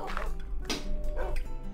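A dog in the video game Minecraft gives a few quick, sharp barks in close succession, up close and moderately loud over a faint game background.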